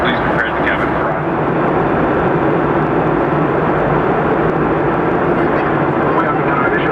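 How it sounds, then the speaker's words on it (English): Steady, loud broadband roar of a Delta airliner cabin during descent into Philadelphia, continuous engine and airflow noise with no breaks, heard close from inside the cabin. "We have begun our initial descent into Philadelphia."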